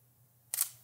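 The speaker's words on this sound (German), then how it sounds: "Also machen wir einfach mal ein Foto." DSLR camera shutter firing once, a single short crisp mechanical click after near silence with a faint hum underneath.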